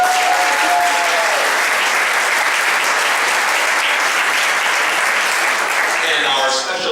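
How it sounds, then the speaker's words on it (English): Audience applause at a film festival closing ceremony, loud and sustained throughout from a large crowd, with a voice coming in over the clapping near the end. "a round of applause for our lovely award handlers"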